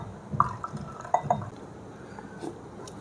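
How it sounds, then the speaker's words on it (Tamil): Water poured from a container into spiced masala buttermilk in a glass, a quiet liquid trickle with a few light clinks and drips close by, no voices. "நான் நிறைய தண்ணி ஊற்றுறேன்."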